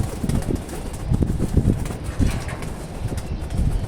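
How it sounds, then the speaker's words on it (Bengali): Pigeons cooing and fluttering as they are released from a rooftop loft, a soft continuous murmur of calls and wingbeats close by. "এই যে ভিউয়ার্স কবুতর ছাড়লাম।"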